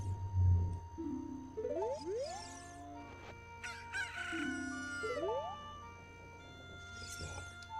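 A chicken crows in the game Zelda: Ocarina of Time, two cock-a-doodle-doo calls with rising, rapidly sweeping tones over background game music, plus a brief clucking burst near the end.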